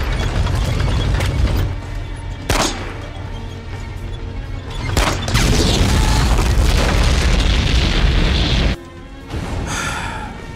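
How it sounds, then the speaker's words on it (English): Tank explosion in the Assassin's Creed Chronicles: Russia video game, several heavy booms and crashes over a loud rumbling bed, followed by a sharp drop and a lighter burst near the end. "Kolya, summoning up all of his years of wisdom and summoning all of his strength, does manage to destroy the tank once and for all"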